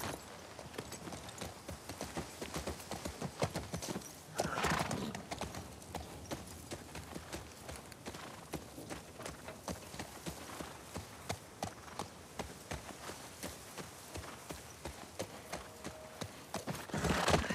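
Horse hooves clip-clop steadily at a riding pace in The Last of Us Part II, a continuous rhythmic trot through most of the stretch, fairly close and moderately loud, with no talk over it.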